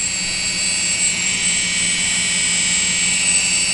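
A quadcopter motor under throttle control gives a steady, high-pitched electric whine with a constant hum beneath it, close and continuous with no voices.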